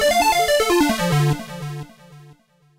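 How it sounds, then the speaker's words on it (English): A mono unison synth lead patch mixing square and sawtooth waveforms plays a quick descending run of bright, buzzy notes, then settles on a sustained tone that fades out. "there's a square type of lead."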